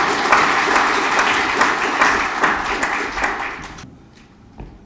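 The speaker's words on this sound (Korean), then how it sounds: "큰 박수로 맞아주시기 바랍니다" Audience at a National Assembly News founding anniversary ceremony applauding, loud steady clapping that stops abruptly near the end, followed by a single late clap.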